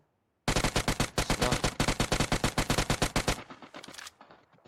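A firefight in PUBG Mobile erupts with a long, loud, rhythmic burst of automatic rifle fire after a moment of silence, each shot distinct and close, then trailing into weaker shots and echo.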